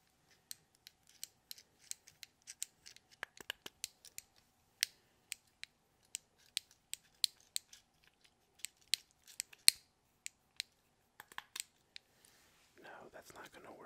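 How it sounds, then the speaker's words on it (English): A white stress cube held in one hand gives a long run of sharp, close clicks and ticks, irregular in rhythm and quiet overall. A short burst of rolling, rustling friction from its little wheels closes the sequence. "we have the white cube in my left hand doing the roly wheels, and then we'll do the click the switch on this hand"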